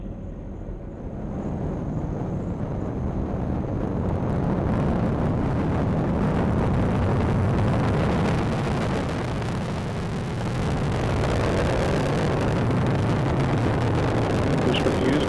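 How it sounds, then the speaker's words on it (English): An Atlas V 401 rocket's booster engine roars during launch, a broad, thick rumble that swells after the first second and holds steady at high level for the whole stretch, with no clear voices above it. "Booster engine continues to perform well."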